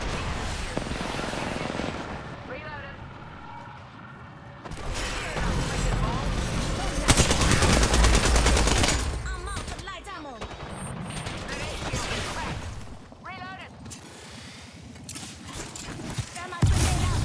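Rapid bursts of gunfire from Apex Legends combat, loud and dense, with sustained automatic fire in several stretches, broken by short pauses and mechanical clatter.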